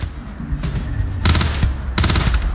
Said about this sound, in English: He's shooting at me with a shotgun from that distance.